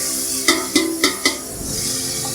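Chopped tomatoes fry in a pan for degi-style white mutton yakhni pulao, a continuous sizzle broken by four evenly spaced clanks of a spoon against the pan.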